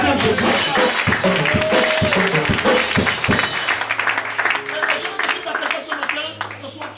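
A church congregation claps and cheers loudly and steadily, a dense wash of hands with voices mixed in and some sharper claps standing out near the start.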